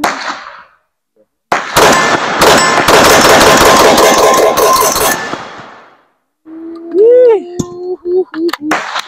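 A rifle fitted with a Rise Armament 434 performance trigger fires a loud, rapid string of shots for several seconds outdoors, followed by quieter metallic ringing and pinging.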